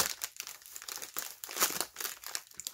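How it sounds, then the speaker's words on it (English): Tightly wrapped package being unwrapped, its plastic wrapping crinkling and crackling in dense, irregular bursts, close and fairly quiet, with no voices. "So I am currently unwrapping this guy and doing my best."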